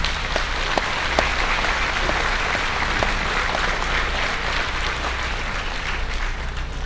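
Audience applause for interns and volunteers at a livestock show's grand drive, a steady dense wash of clapping from a large crowd with occasional sharper individual claps, sustained throughout without talk.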